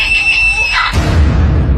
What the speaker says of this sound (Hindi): एक चीख मारकर मेघना बेहोश हो गई